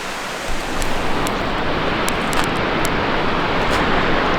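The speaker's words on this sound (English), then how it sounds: "I can see why they call it Buttermilk Falls with all the white water." Buttermilk Falls, a waterfall near Ithaca, New York, pouring white water in a loud, steady, broadband rush that fills the whole stretch, close by, with only faint ticks above it.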